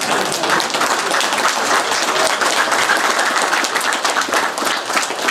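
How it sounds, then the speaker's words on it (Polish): A crowd at a political party rally in a hall breaks into loud, sustained applause, dense steady clapping from many hands filling the whole stretch without talk over it. "Oklaski mogą być."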